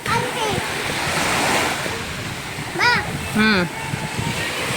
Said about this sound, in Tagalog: Nice ag dagat.